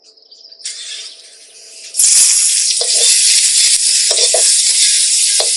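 Red chillies drop into very hot oil and fry with a loud, bright hiss that starts abruptly and crackles on steadily, close by. A faint tone is heard just before.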